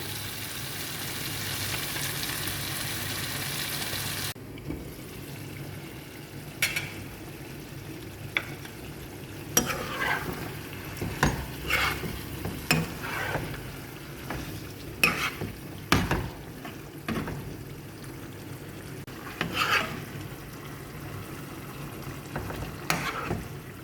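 Chicken with kabuli chickpeas is sautéed and stirred in a pan. A loud, even sizzle runs for a few seconds, then quieter frying continues under repeated clattering scrapes of a spoon against the pan.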